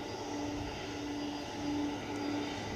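A large jet airliner at Edinburgh Airport makes a steady, distant engine roar that swells slightly partway through, with no other sound standing out.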